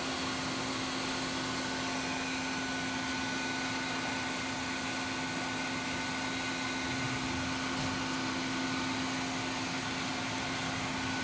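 The main spindle of a rebuilt Royal Master TG 12 x 3 centerless grinder runs with a constant, even machine drone and a steady low hum that continues without change throughout.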